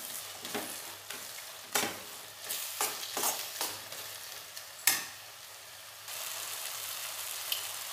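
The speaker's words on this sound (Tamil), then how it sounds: "பச்சை வாசனை போகிற தூரம் லைட்டாக வதக்கிக்கிடலாம்." Ginger garlic paste sautés with onions and tomatoes for a kurma in a pan, giving a soft, steady sizzle broken by several sharp scraping stirs, close by with no voices.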